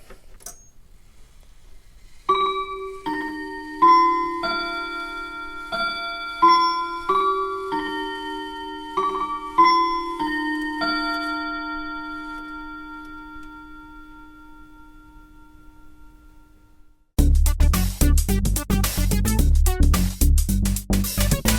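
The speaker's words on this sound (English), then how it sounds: "I'm going to attempt to capture a little bit of my mantle clock chiming." A mantel clock chimes a slow melodic sequence of clear, ringing tones close to a Zoom H1 Essential recorder, each note decaying into a long fading resonance, followed by a sudden burst of loud, dense noise at the end.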